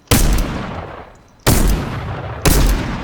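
Three loud, sharp gunshots ring out in a video game, each a sudden blast followed by a ringing decay, spaced about a second apart.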